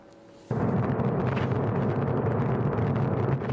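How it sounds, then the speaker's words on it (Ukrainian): A sudden, sustained roaring rush of Grad multiple rocket launcher fire in Donetsk starts abruptly and holds loud and dense for about three seconds before easing off. "Це терористи стріляють із радів у Донецьку."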